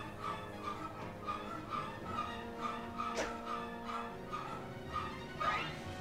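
A dog whimpers and yips in a repeated high, tremulous pattern, faint and steady, with short pulses recurring over several seconds alongside other soft game sounds.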